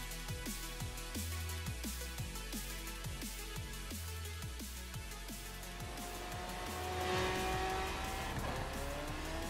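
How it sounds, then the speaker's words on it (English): A Lamborghini racing in Forza Horizon 3, its engine droning steadily and repeatedly climbing through the gears with sharp shift drops, rising toward the end as tires squeal, with no talking. "I guess we're driving the Lamborghini"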